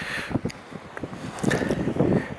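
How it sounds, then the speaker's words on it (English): Gusty wind buffets the microphone at Farleigh Hungerford castle, a rough, fluctuating rush that swells and eases over a couple of seconds with no voices. "it's suddenly got very windy just here"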